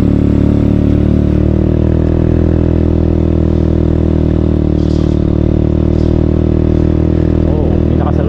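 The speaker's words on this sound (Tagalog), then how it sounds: "Gamit natin isa scooter lang" Steady hum of a 50cc scooter engine riding slowly on a mountain road, constant droning tone with wind noise and a few faint clatters along the way.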